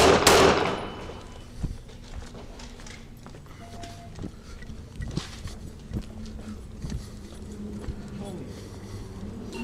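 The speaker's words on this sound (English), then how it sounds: "Shots fired, shots fired." Gunfire erupts during a police encounter with an armed man carrying an AR rifle: a loud initial blast followed by scattered sharp shots and clattering over several seconds, with shouting voices mixed in.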